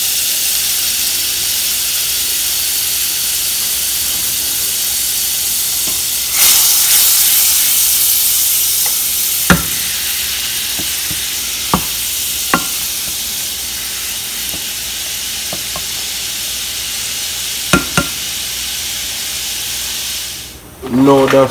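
Butter and sugar melting in a pan, a loud continuous hissing sizzle that swells partway through, punctuated by a few sharp clicks and clatters near the stovetop.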